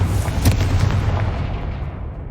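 A Confringo fire spell blast from the Hogwarts Legacy video game lands as a deep booming burst with a crackle near the start, then fades into a low rumbling decay.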